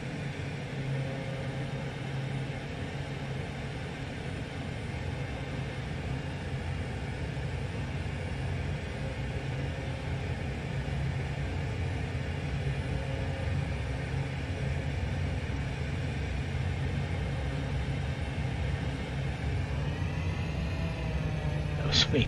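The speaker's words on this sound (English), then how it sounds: "Me pushing the throttle down too far. The noise." Inside a Pilatus PC6 aircraft, a steady low engine drone and rumble fills the cabin as the throttle is pushed, loud and constant, with a rising whine near the end.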